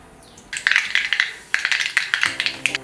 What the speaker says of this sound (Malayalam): ചീനച്ചട്ടി ചൂടായി കടുകിടാം